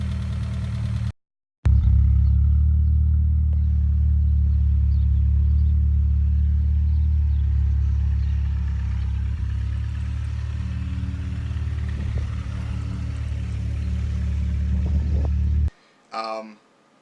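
Mitsubishi Eclipse engine running rough with a suspected misfire, a steady loud low rumble at idle that carries on with slight unevenness for most of the stretch, broken by a brief dropout near the start and another at the end.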